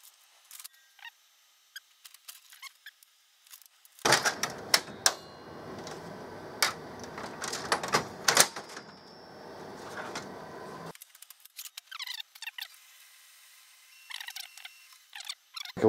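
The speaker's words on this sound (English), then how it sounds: "it's printing out a test page" An HP Color LaserJet 4650n laser printer prints a test page, a burst of mechanical whirring and clattering from rollers and paper feed lasting several seconds, bracketed by quieter clicks and ticks.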